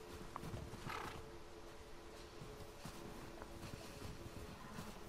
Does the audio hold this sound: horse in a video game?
yes